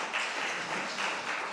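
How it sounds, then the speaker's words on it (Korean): Applause for a church choir at a Christmas thanksgiving service at an air force base church fills the space as a steady, brief wash of clapping from a crowd. "우리 찬양대 들어가실 때 더 큰 박수 하겠습니다"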